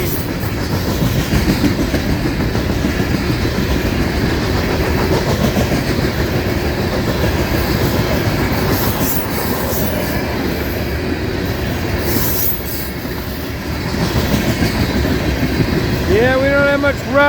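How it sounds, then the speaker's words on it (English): A CSX freight train hauling rock rolls steadily past up close, a loud continuous rumble of wagons with rail clatter and a brief wheel squeal near the end. "Train."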